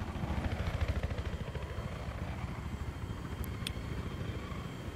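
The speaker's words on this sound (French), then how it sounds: "Hélico de transport sur la montagne." Transport helicopter in Battlefield 3 flying over a mountain, a steady rotor thump and engine drone running continuously and fairly close, with a couple of brief high beeps near the end.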